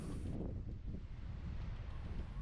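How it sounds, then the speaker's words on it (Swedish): Strong west-southwest wind rushes at Anholt harbour, a dense continuous roar buffeting the microphone throughout, with no other sounds standing out. "Det blir mycket vind från väst-sydväst."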